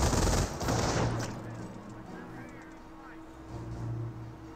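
MG42 machine gun fire rattles in Company of Heroes, a dense, loud stream of rapid shots at the start that eases into a rumbling battlefield bed. Faint engine and other game noises sit underneath.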